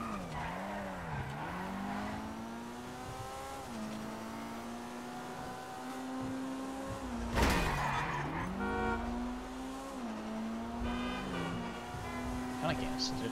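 Maibatsu Penumbra FF drifting in GTA Online with no suspension, a sustained engine drone rising and falling with revs while tires squeal in long sweeps, a voice talking now and then over it.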